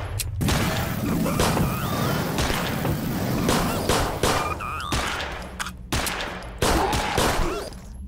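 Gunfire in the zombie shooter Zompiercer, a dense barrage of loud close shots and bursts with crashing impacts, continuing almost without pause across the whole stretch.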